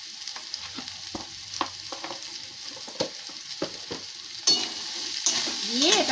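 Food frying in a pan with salt and turmeric is stirred, giving a steady sizzle with repeated scraping strokes of the spoon, close and fairly quiet, growing louder and brighter toward the end.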